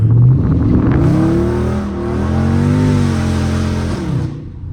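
A Dodge Scat Pack's V8 engine roars loud and close, revving and sustaining high throttle while drifting, rising and falling in pitch before easing off at the end.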